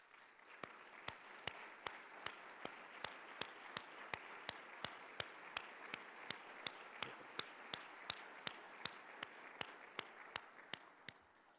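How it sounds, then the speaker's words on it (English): Audience applause for an orchestra program at an annual meeting and awards breakfast, a steady, even wash of many hands clapping at moderate distance, sustained throughout without a break, under a faint room ambience. "would you please stand for a round of applause?"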